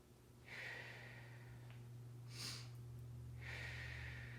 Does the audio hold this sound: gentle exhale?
yes